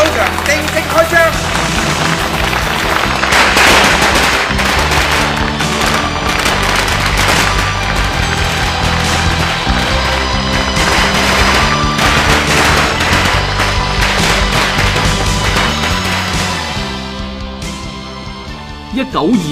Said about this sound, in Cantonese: 離開賭場，正式開槍。